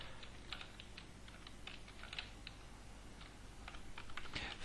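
Quick, uneven clicks of someone typing a website name on a computer keyboard, with faint keystrokes over a steady background hiss throughout.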